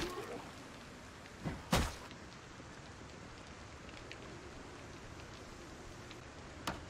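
Night rain in the survival video game Project Zomboid falls as a steady, soft hiss. A couple of brief louder knocks break through early and near the end.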